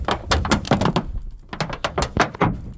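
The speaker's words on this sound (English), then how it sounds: "Sorry about the noise. It's a metal roof." Heavy, irregular thuds and clanks boom close by from footsteps on a metal roof, in quick uneven bursts with no talking.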